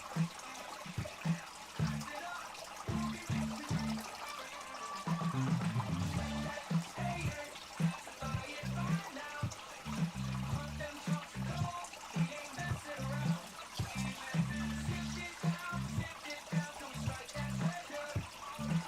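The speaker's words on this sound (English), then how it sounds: "Monday night is about running the little sluice" Water runs steadily through a small gold-prospecting sluice, a continuous trickling and pouring wash that stays in the background under intermittent low rumbling.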